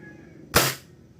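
A WE G17 airsoft pistol, short-stroked with an early cut-off, fires a single sharp crack through a chronograph, one near, loud shot in an otherwise quiet moment.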